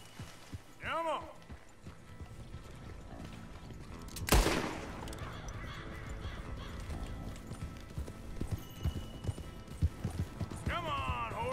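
Horse hooves in Red Dead Redemption 2 clop in a quick galloping rhythm under game noise, with a loud shot-like burst midway and whinnying horse calls at the start and end.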